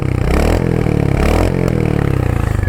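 A 2025 Royal Enfield Hunter 350 single-cylinder motorcycle idles up close, its loud, even engine beat thumping steadily, with a couple of small throttle blips along the way.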